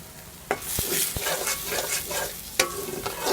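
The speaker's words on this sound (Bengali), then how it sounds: "আদা বাটা রসুন বাটা জিরার গুঁড়া আর হলুদের গুঁড়া লবণ দিয়ে একটু ভেজে নিব" Ginger paste, garlic paste, ground cumin, turmeric and salt frying together as a filling in a pan, a steady hiss broken by a few sharp knocks and scrapes of a stirring spoon, close and alone.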